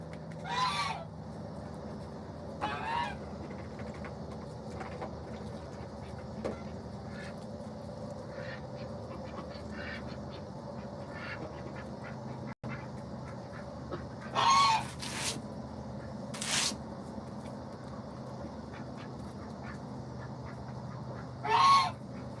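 Backyard flock of turkeys, chickens, ducks and geese at feeding time, with a steady low murmur of birds broken by loud goose honks and squawks at intervals, several bursts close by near the end.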